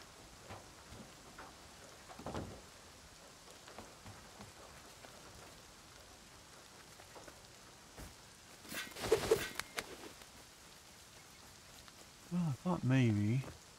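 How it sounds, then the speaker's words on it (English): Rain falls in the video game Rust, a faint, steady patter in the background, broken by a few louder bursts and a voice talking briefly near the end. "Rain coming down. Oh, now it's even gonna pour."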